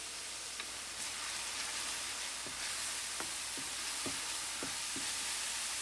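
Garlic and red pepper flakes sizzle in oil over medium heat, a steady soft hiss with scattered small pops, heard alone and close.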